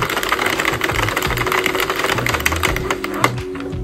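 A Sentro knitting machine's carriage cranked back across a row of yarn, giving a steady, close mechanical clatter of rapid ticks and rattles that runs the whole time, with faint musical tones underneath.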